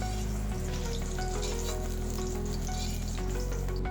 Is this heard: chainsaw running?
no